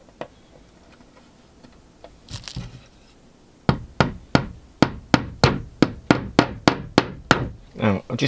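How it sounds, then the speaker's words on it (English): A small hammer drives tacks into model railway track, first a few scattered taps, then a steady run of about a dozen sharp, evenly spaced strikes, close and crisp. "Now I'll just tack those in."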